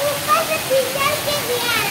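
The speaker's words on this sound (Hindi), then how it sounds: "नाली से ऊपर पानी जा रहा है, उसके अंदर भी जा रहा है ना" Floodwater pouring over a road and into a drain, a steady loud rushing wash close by, with faint voices in the background.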